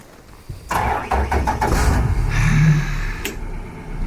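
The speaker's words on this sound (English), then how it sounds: "there's nothing like a good outboard motor" A boat's outboard motor cranks and catches, then settles into a steady rumbling idle close by.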